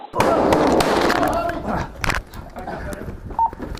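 Sharp cracking bangs of gunfire, a burst of rapid reports followed by a few louder isolated shots amid shouting and commotion, captured on a police body camera at a classroom during the Uvalde elementary school shooting.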